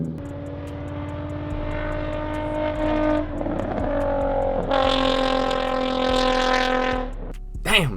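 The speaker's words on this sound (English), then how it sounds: "Damn, it's just another 350Z outside." Nissan 350Z sports car engine and exhaust outside at night, a loud sustained droning note with strong harmonics that rises and swells partway through as the car revs, then cuts off near the end.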